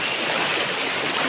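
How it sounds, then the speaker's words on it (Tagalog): A strong current of clear river water rushes by in a steady, loud, broadband flow with no talking. "Lakas ng current ng tubig kasi."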